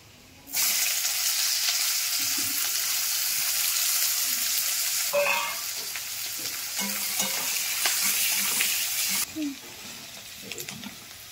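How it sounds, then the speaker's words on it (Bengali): Sliced onions fry in hot oil with crushed whole garam masala, giving a steady, loud hiss that starts abruptly and carries on with occasional soft stirring scrapes beneath it. "দেখুন পেঁয়াজ ভাজা হচ্ছে"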